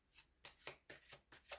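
A tarot card deck is shuffled in four quick riffling bursts with short pauses between, soft and close, with no voices.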